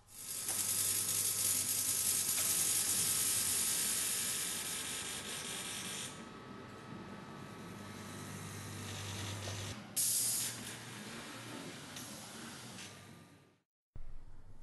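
Festo pneumatic muscles with integrated valves drive a humanoid robot, giving long loud bursts of hissing air and mechanical buzzing that fade, briefly stop, resume, then end in a sharp cutoff followed by another short burst.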